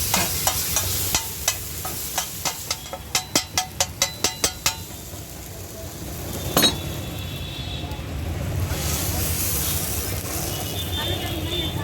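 Food frying and sizzling in Amul butter on a street-food griddle for fried onion vada pav and dahi puri, with a run of sharp metallic clinks of a spatula early on, then a steady sizzle amid busy roadside noise and people talking.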